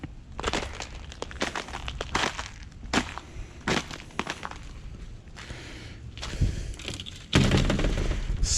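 Thuds and crunches of something striking solid ice on a frozen backyard swimming pool after an ice storm in Louisville, Kentucky: irregular close knocks and scrapes outdoors.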